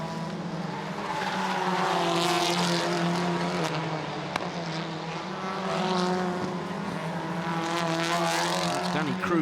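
TCR Europe touring cars, including a Hyundai and a Cupra, racing at Zandvoort in 2018, with loud continuous engine roar and shifting pitch as they pass, under race commentary.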